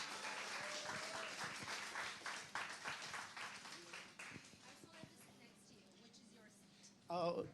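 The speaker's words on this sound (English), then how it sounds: "Can we have a big round of applause for Sunny, please?" An audience claps as a guest is invited onto a stage, a dense burst of applause that thins out over several seconds, with voices speaking over it and a louder rustle at the very end.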